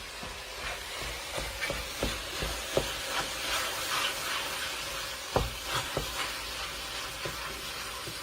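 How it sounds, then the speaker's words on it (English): Tomato paste being stirred into a sizzling pan for chicken cacciatore, with a steady frying hiss and repeated soft scrapes and knocks of the spoon against the pan. "I always like to try to stir that tomato paste in, get it mixed in really good"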